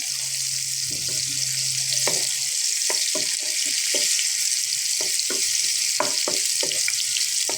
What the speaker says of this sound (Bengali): পেঁয়াজ দিয়ে দিলাম। পেঁয়াজটা হালকা ভাজবো।